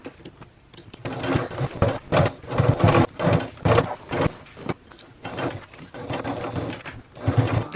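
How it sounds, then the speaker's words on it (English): A sewing machine bastes the top edge of a travel bag in short whirring bursts that start and stop repeatedly, close and clear with no talking. "let's go to the sewing machine"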